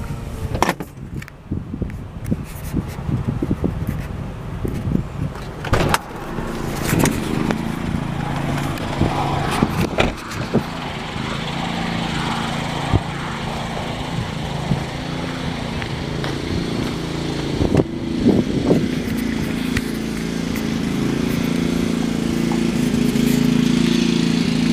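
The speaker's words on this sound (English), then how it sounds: "Got a generator running in the back." Generator running steadily behind a house, a continuous mid-distance engine drone with a fairly even level throughout, with occasional thumps and rustles from someone moving nearby.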